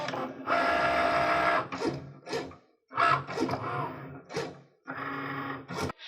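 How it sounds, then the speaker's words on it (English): A Cricut Maker cutting machine cuts a design, whirring and buzzing loudly in repeated motor bursts with short pauses between passes, close up and heard alone. "the maker will begin cutting"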